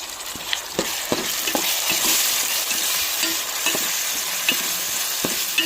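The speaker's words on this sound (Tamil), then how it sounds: "லைட்டாக உப்பு சேர்த்து வதக்கிக்கிறோம்" Carrot and beans sauté in oil with a little salt, giving a continuous close sizzle overlaid with regular clinks and scrapes of a utensil stirring against the pan, with no voices.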